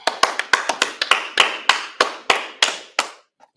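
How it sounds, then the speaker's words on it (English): A group clapping hands together at the opening of a Monday night brotherhood class, roughly a dozen sharp, loud claps in an uneven rhythm over a few seconds, ending abruptly. "Clap it up."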